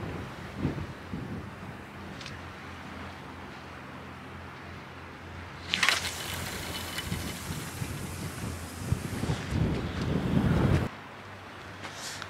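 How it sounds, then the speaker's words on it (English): Strong gusting wind buffets the microphone in low, roaring rushes while sea fishing off the Isle of Wight, with a loud surge midway and another near the end, over faint water noise. "it's quite windy today"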